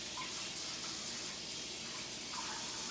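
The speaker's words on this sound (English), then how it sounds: "I'm just gonna wash my hands" Hands being washed under a running kitchen tap: a steady, hissing stream of water, continuous and fairly close, with faint splashing and no talk.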